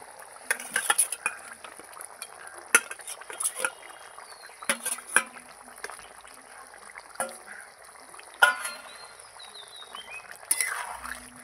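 Fried fish stirred into a potato curry in a pan, heard as scattered soft scrapes and clicks of a spatula over a faint hiss, close but quiet, with no talking.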